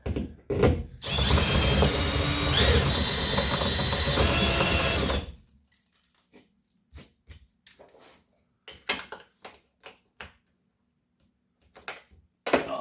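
A power drill bores into the rear body of a widebody Subaru WRX wagon near the hatch, whining loudly and steadily for about four seconds, followed by scattered clicks and light handling taps.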